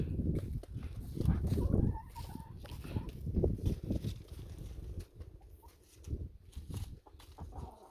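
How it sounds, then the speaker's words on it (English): A mother hen and other chickens cluck near and far in irregular bursts, loudest in a few close flurries, with soft rustling and patter between them. "Look at you, pretty mother hen."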